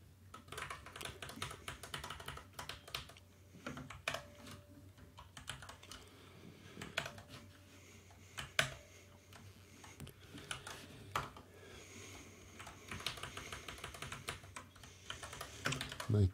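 Steady computer-keyboard typing while writing C code, with irregular bursts of key clicks and occasional louder taps, close and clear with no talk.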